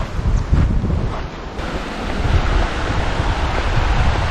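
Water rushes at the Biga-a River in the mountains of Laua-an, Antique, a loud steady churning wash with gusts of wind buffeting the microphone.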